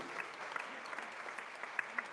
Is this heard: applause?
yes